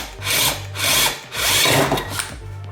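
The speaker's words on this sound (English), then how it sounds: "So we just need to bore out the hole so it's big enough to fit this screw." Power drill boring out a hole in a car headlight housing to fit a screw, with close, loud bursts of whining drilling that start and stop in several pulses, no talk.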